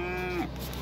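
A single local cow moos close by, one short tonal call that slides down and fades within a second.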